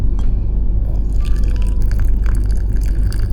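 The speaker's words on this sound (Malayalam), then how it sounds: "ഈ പൗഡറിലേക്ക് നമ്മൾ 150 ml ചൂടുവെള്ളം ഒഴിക്കണം എന്നാണ് അവർ പറഞ്ഞിരിക്കുന്നത്" Hot water pours onto instant tomato soup powder in a cup on board the Rajdhani Express, giving a close, loud liquid splash and gurgle over steady train rumble.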